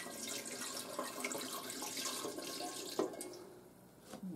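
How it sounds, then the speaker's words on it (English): Filtered water pours steadily into a pressure cooker, a continuous close splashing stream that tapers off toward the end, with a brief clink of metal partway through. "Then I pour water, the filtered water again,"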